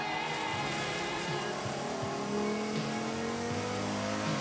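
A Porsche Carrera GT's V10 engine accelerates hard off the start line with wheelspin, a loud sustained high-pitched wail climbing through the revs, with brief dips between pulls and no voices over it.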